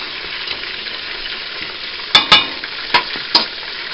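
Garlic sizzling in a hot pan for buttermilk fried chicken, a steady close frying hiss broken by a few sharp clacks of stirring near the end.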